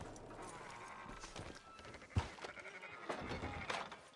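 Sheep bleating among clip-clopping hooves and farmyard bustle on a ranch in Red Dead Redemption 2, several moderate calls spread over a few seconds with a sharp thump partway through.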